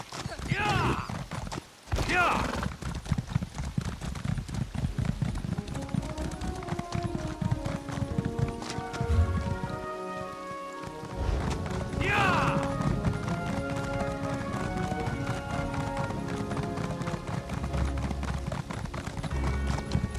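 Steady, rhythmic hoofbeats of a horse galloping in The Elder Scrolls Online, running fast and close with a brief whinny near the start, under game music and voices speaking.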